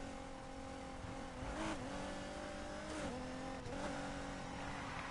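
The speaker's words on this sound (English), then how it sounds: "they do a good job of making your car sound beat up." Damaged car engine in Need for Speed Heat drones at a steady, raspy pitch with brief rising revs and gear shifts, a rough, buzzy tone under constant road noise, with no talking.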